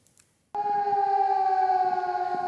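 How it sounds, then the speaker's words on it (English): At 5:30 a.m. in Nicosia, Cyprus, after a brief quiet moment, civil defense sirens abruptly start up and hold a loud, steady wailing tone. "people in Nicosia wake up to the sound of sirens"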